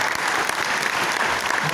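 A crowd at a video game awards ceremony in Argentina gives a strong round of applause, dense and continuous throughout, with faint voices mixed underneath.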